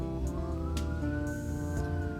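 A faint ambulance siren rises slowly from far away, thin and steady beneath a low background hum.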